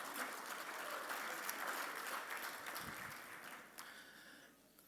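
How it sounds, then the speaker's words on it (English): Audience applause at a Capitol Hill Day luncheon, a sustained crowd clapping heard from within the room that slowly tapers off toward the end. "Let's give them a round of applause."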